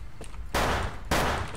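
Gunfire in a video game: two loud, dense bursts of shooting, each lasting about half a second, set against quieter game ambience with no talking.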